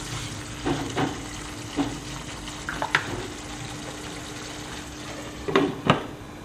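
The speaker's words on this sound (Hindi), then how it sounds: "कवर करके मसाले को भुनेंगे और बीच बीच में चलाते रहेंगे।" Covered masala with Kashmiri red chili roasting over low heat for a khoya makhana curry, with a quiet steady sizzle broken by a few distinct clanks and scrapes of stirring, near and moderately loud, no talk.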